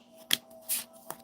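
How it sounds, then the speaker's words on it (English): Tarot cards being shuffled by hand in a couple of quick, crisp riffling bursts, close and alone with no talk. "I did shuffle that."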